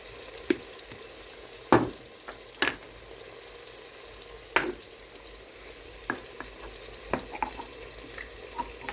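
Garlic and beans frying in red palm oil in a pan on the stove, with steady low sizzling broken by sharp pops and occasional stirring clicks.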